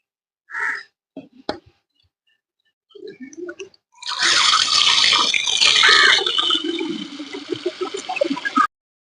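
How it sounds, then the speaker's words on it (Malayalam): Chopped paranda is rinsed under a running kitchen tap, a loud steady splash of water lasting several seconds with sloshing handling, after a few brief clicks and soft sounds. "ഇനി ഞാൻ ഇതൊന്ന് കഴുകിയിട്ട് വരാം"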